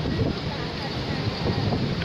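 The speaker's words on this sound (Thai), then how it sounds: "ลมแรง" Strong wind at sea rushes and buffets against the microphone in a dense, steady roar, with surf-like noise underneath throughout the short moment.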